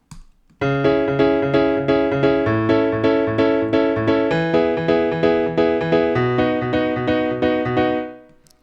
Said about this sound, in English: I'm going to put in, for the sake of this demo, the house piano pattern.